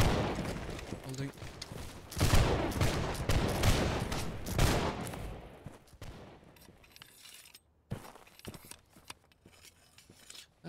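A dense volley of musket fire in the video game Holdfast crackles loudly for a few seconds, then thins to scattered shots and clatter with voices underneath.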